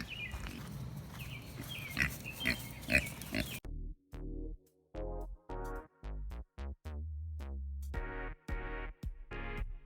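A fed pig grunts and oinks in a quick series of short, close, choppy bursts after a stretch of noisy background clatter.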